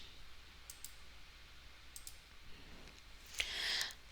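Faint, crisp mouse clicks in a quiet room, a few scattered single and double clicks while navigating Zotero software, with a brief louder rustle near the end.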